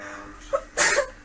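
One person sneezes nearby during a tabletop game session, a short sharp intake followed by a loud burst, heard alone against quiet room noise.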